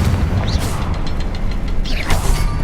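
Confringo blasting spell explosions in Hogwarts Legacy, two booming bursts with whooshing tails about a second and a half apart over loud rumbling action noise.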